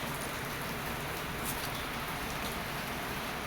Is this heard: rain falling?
yes